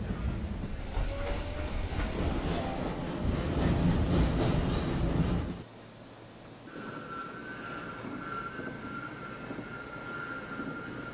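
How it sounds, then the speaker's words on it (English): A New York subway D Express train running, a loud rumbling roar with hiss that drops abruptly to a quieter steady hum with a faint tonal whine, as if slowing or leaving the tunnel. "This is a West Point Island bound D Express train"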